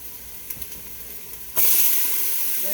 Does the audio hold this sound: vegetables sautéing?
yes